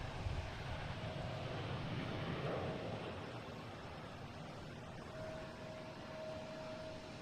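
A United Airlines Boeing 737 MAX 9 takes off from Boston Logan, its engines a steady, distant broadband roar that swells and then fades slightly, with no voices over it.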